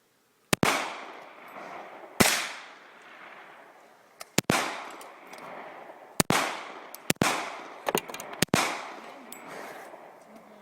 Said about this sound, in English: I'm going to cut here to my fiance shooting this gun so you can see how it actually looks when you shoot it.